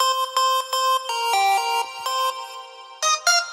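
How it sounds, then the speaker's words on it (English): An AI-generated audio logo made with Meta's MusicGen for the MRC brand: a short run of bright, synth-like tonal notes in a quick rhythmic pattern, loud and alone, ending with two sharp accented hits. "Let's listen to the Sonic logo."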